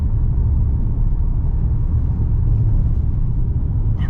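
Inside a 2022 MG HS PHEV plug-in hybrid SUV driving over a rough road, a loud, constant low rumble of road and tyre noise fills the cabin with no talk.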